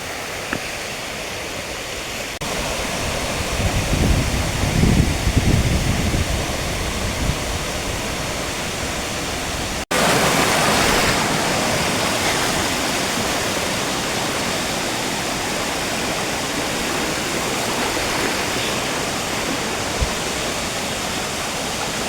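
A creek rushes through Queensland rainforest near waterfalls at Killarney, a steady, dense wash of flowing water close to the microphone, with a brief louder splash early on and no talking.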